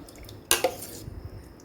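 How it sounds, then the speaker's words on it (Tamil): Soaked semolina tipped with its water into a mixer jar gives one brief splashing pour and a dribble against the jar, close and fairly loud, then quiet. "மிக்சர் ஜாரில் அந்த ஊற வச்ச ரவையை அது தண்ணியோடு சேர்த்துக்கலாம்"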